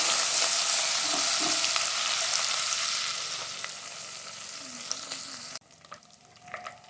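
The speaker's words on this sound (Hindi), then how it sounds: "तो अब हम इसमें शामिल करेंगे अदरक लहसुन का पेस्ट। इसे हल्का सा फ्राई करेंगे।" Onion with ginger garlic paste fries in a pan for lauki chana daal, a strong close sizzle that fades gradually, with stirring scrapes, then cuts to a quieter simmer with light clinks; no talking.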